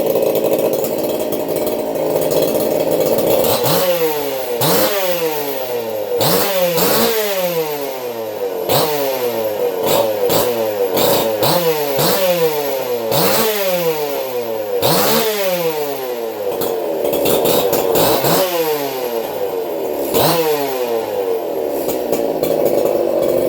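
Small two-stroke motorcycle engine with an untuned carburetor, revving in repeated sharp bursts that rise and fall every second or two, loud and close with a raspy, chainsaw-like whine.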